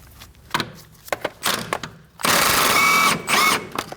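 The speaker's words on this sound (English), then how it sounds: "Using a 19mm socket, go ahead and remove this nut." A ratchet with a 19mm socket loosens the strut link nut on a 2011-2016 Kia Optima front strut assembly, giving sharp clicks and clunks followed by a longer burst of rapid ratcheting, close up.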